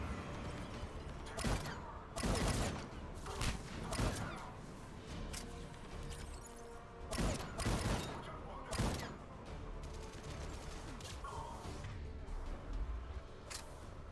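Gunfire and explosions from the Mass Effect 3 video game, a run of loud bursts and thuds at irregular intervals over a steady background of game sound.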